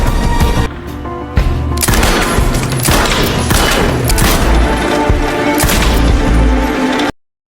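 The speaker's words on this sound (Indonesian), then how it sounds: "berlatih menembak agar tidak mati konyol ketika sedang berada dalam medan pertempuran nanti" Gunfire during shooting practice in the action film Silent Night (2023) rings out as loud, dense bursts of shots with booming impacts, near and continuous before cutting to silence at the end.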